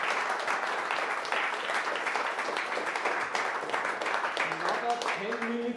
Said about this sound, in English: can we get a massive round of applause before the break?